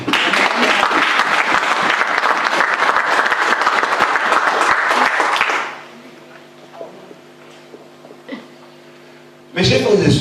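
A church congregation bursts into loud, dense applause for about five seconds during a Palm Sunday service. It then drops to a quiet room with a faint sustained tone, and a voice starts speaking at the end.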